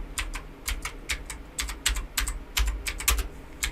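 Fingers tap on a computer keyboard in quick uneven bursts of clicking keystrokes, recorded close and heard alone.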